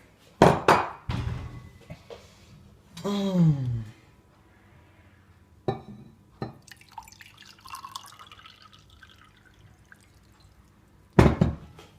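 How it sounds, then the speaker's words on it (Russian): A few sharp clunks, then a brief pour of water into a glass with rising pitch, followed by more knocks and clinks of dishware nearby. "Я, пожалуй, налью себе водички."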